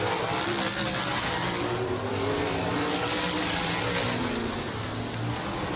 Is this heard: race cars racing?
yes